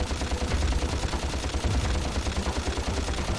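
Rapid, continuous weapon fire from the Ratchet and Clank video game, a loud stream of evenly spaced shots rattling on without a break and with no talk over it.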